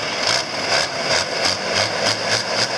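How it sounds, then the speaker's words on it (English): A hot-running John Deere tractor engine at a tractor pull, loud and steady with a rough, pulsing beat and broad mechanical noise throughout, no talk over it. "One hot running John Deere."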